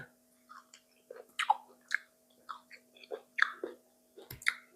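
Blanched nettle shoots being chewed close to the mic, a quiet run of wet, squishy bites and mastication in an irregular rhythm against a faint steady hum.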